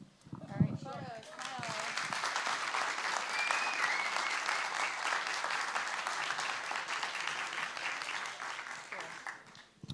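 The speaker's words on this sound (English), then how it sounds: "More clapping, please." Steady applause fills the room from an audience at a startup pitch competition, sustained clapping lasting throughout, with voices mixed in beneath it.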